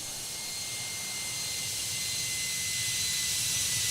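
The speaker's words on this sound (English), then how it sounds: "Touching down, reversers come on in the Boeing 717." A Boeing 717's thrust reversers roar on touchdown at Atlanta in a tower simulator game, a steady loud jet rush with high whine that swells slightly over the few seconds.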